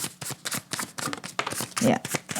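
A deck of tarot cards being shuffled, with a run of quick papery riffles and soft slaps in irregular bursts close to the listener, and a voice talking in between.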